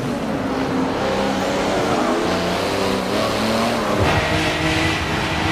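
A race car engine roars in Forza Motorsport 7 on a mountain pass road, loud and continuous, with the pitch shifting as it accelerates and changes gear.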